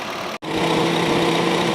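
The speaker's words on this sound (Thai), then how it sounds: "นี่นะครับเสียงการทำงานของพัดลม ระบายความร้อนมอน้ำที่ปกตินะครับ" A Honda City radiator cooling fan whirs steadily with a loud, constant engine-like drone, briefly cut off for an instant before resuming.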